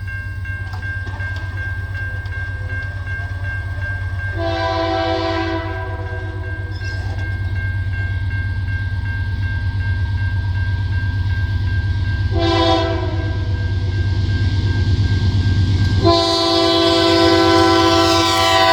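A freight train locomotive accelerates hard past a road crossing, roaring close by with a steady low engine drone, deep diesel throb and sounding horn blasts, building louder as it passes.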